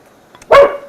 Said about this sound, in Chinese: 来了个狗狗。